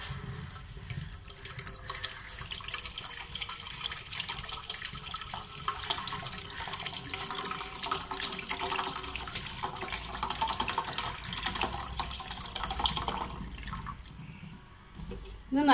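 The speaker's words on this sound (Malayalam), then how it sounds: "ഒരു പാത്രം അടുപ്പത്ത് വെച്ച് അതിലേക്ക് 4 ഗ്ലാസ് വെള്ളം ഒഴിക്കുക" Four glasses of water are poured into a pot on the stove, making a steady splashing pour that runs continuously, with faint background hiss and no talk.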